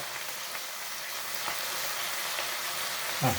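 Seasoning stir-fried in a pan before water spinach is added gives a steady, even sizzle that holds at moderate loudness throughout, with a light scrape near the end.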